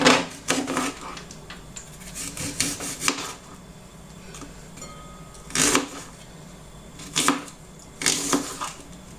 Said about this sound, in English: I'm going to first of all cut my ingredients in order to make it easier